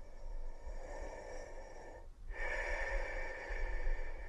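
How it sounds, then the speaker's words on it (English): In the horror game Bloodwash, a creature breathes heavily in a laundromat men's restroom, close, with a raspy drawn-out inhale, a short pause and then a louder snorting exhale. "I hear it breathing."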